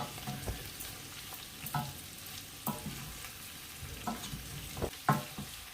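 Okra sauce with smoked meat is stirred in a pot. A spoon scrapes and knocks in uneven strokes over a low simmering crackle, close but fairly quiet.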